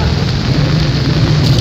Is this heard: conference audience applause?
no